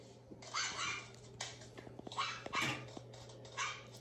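A puppy barks indoors in a house, giving several sharp, yappy barks in short bursts spread across the clip over a steady low hum.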